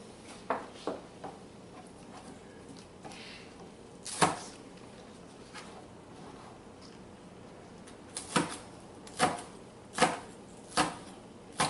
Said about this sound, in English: Trim my green onion here.